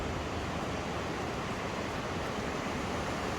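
A river flowing beside a campsite, a continuous dense rushing wash, steady and fairly close with no voices.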